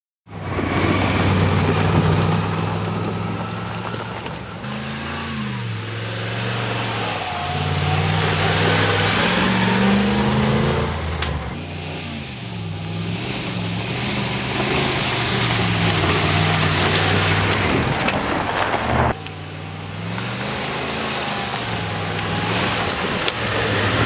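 A 2019 Ram 1500 pickup truck drives over dirt trails in Arizona, its engine droning steadily and rising and falling with throttle, under constant road and wind noise, with no talk.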